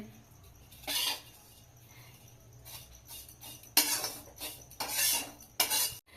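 Semai vermicelli roasting in a pan over low heat, stirred gently so that bursts of dry scraping and metal clatter come in uneven clusters over a faint background, close by.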